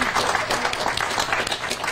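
Audience applause at a launch-event press conference, a dense steady wash of many hands clapping that fills the whole stretch at even volume, with faint voices mixed in.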